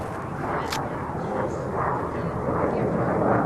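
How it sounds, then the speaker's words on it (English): A military jet roars overhead above a golf course, a broad, loud, rising rumble that builds steadily and holds close above a brief sharp click. "As we have a Navy jet flying over."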